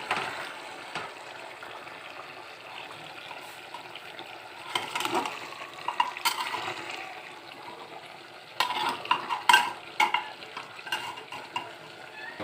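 Potatoes stirred in a frying pan while making mutton curry: a soft sizzle runs throughout under repeated scraping and clattering strokes of the stirring utensil, which grow louder in bursts near the middle and end.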